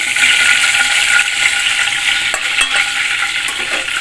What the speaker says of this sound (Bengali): আর 2 পিস ভাজবো।